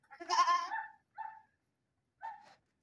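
A ram on a farm bleats once long and loud, then gives two shorter, quieter bleats after brief pauses, close by and alone.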